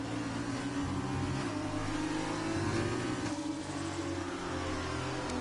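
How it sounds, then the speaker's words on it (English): A Formula 2 racing car engine in a video game drones and revs steadily, with shifting pitch as it accelerates; no distinct pops or bangs stand out. "These cars sound cool with their pops and their bangs."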